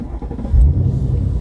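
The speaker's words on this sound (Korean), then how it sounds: "자, 이제 시동을 걸고 나가보도록 하겠습니다." Seventh-generation Mustang GT with the naturally aspirated Coyote V8 fires up, a brief loud burst of deep engine rumble that settles into a throaty idle up close.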